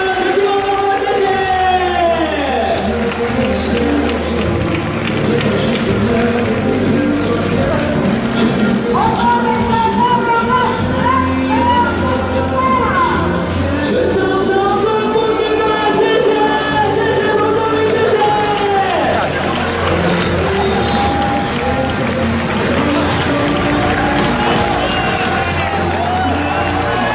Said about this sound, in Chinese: 全场再次给彭宗明掌声鼓励